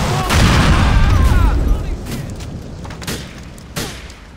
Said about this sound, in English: Lay down some pressing fire!